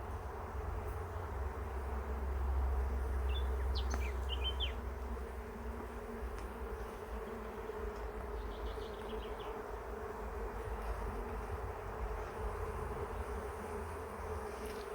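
A bumblebee buzzes close by at a beehive during a hive inspection, a steady droning hum that holds for the whole stretch over a low constant background, with a few brief higher chirps early on.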